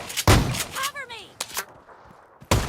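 An S1897 pump shotgun fires in a video game: three heavy, booming blasts about a second apart, each with a quick decaying tail, separated by short, quieter in-game sounds.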